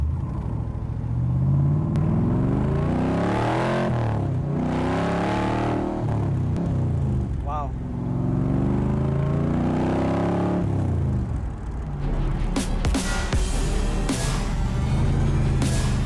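A 7.3-litre Godzilla V8 car with a back draft exhaust rumbles loud and close as it drives, its engine revving and rising in pitch through several pulls, with a brief exclamation from a person inside.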